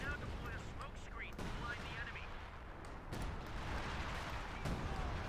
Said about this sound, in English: We got artillery in here.